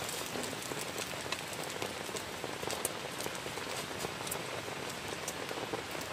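Heavy rain pounds on a closed camping tent in strong wind, a dense, steady, close patter of drops hitting the fabric throughout, with no talking.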